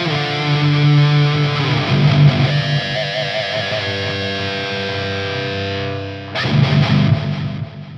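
Heavy distorted metal guitar in drop G tuning through a Fender Tone Master Pro, with ping pong delay and room reverb. Loud sustained chords ring out and echo, with a fresh hard strike near the end.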